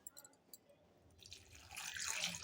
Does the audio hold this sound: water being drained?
yes